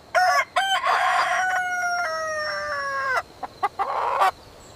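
A rooster crows alone in a loud, close, drawn-out cock-a-doodle-doo, opening with a few short sharp notes and ending with brief clucks.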